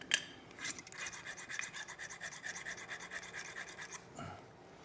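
Crosscut file on a Gerber Center-Drive multitool rasps steadily, a close, continuous scraping of quick back-and-forth strokes for about four seconds before stopping.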